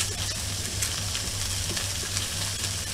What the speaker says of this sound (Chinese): 煎緊個魚啊！